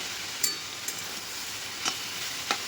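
Saag greens frying in a pan give a low, steady sizzle broken by four short, bright scraping clinks of a spatula, close up and quiet.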